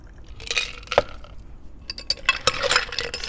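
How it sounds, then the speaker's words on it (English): Margarita poured through a strainer from a cocktail shaker into a glass, with soft liquid splashing and a few light ice clinks, close and quiet, no voices. "We're gonna strain that straight into the glass."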